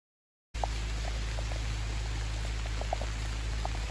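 Steady rain falls at an elephant sanctuary on Koh Lanta, Thailand, a constant soft wash with scattered close droplet taps over a low background hum.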